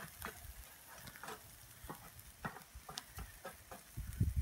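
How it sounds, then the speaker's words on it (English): Bacon fries in a cast iron pan with a soft, steady sizzle and scattered crackling pops, nearby but low in level, with occasional stirring or scraping sounds and no talking. "So I think I'll let this bacon cook just a little bit longer"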